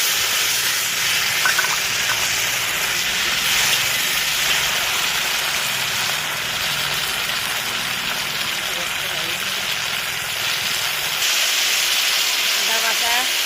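Chital fish muithya frying in hot oil: a loud, steady sizzling hiss that fills the whole stretch without a break and stays close and even throughout.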